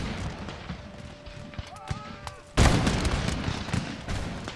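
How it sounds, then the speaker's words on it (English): Musket volleys fire at the enemy during a siege of Tripoli in Empire Total War, first as faint distant crackles, then as a sudden loud sustained roll of gunfire, with a voice talking over it. "those are rather nice volleys being sent towards the enemy"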